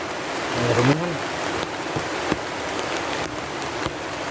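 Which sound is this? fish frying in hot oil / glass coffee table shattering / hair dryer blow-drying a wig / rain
rain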